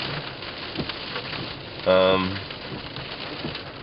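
Steady rain hissing throughout a cold, windy November nor'easter on the coast, with a short louder burst of gust or splashing near the middle.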